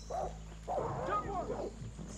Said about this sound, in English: Uh-oh, there's a jaguar.